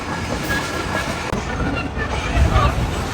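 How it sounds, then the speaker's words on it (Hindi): A train arriving at Rawalpindi railway station in Pakistan, with loud rumbling wheels and clattering rail noise throughout and a voice talking over it. "तो हम फाइनली रावलपिंडी रेलवे स्टेशन पे पहुंच गए हैं"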